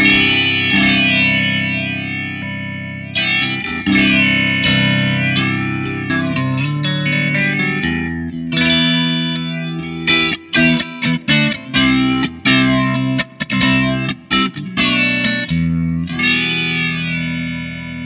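An electric guitar plays chords and then choppy strummed stabs through a Hamstead Redwing analog stereo modulator set to a triangle wave, giving a wide, swirling chorus-like wobble that is loud and up front with no talk.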